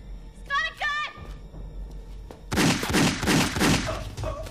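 A burst of gunfire cracks out in rapid, closely packed shots for about two seconds, following a brief excited shout in a jungle setting.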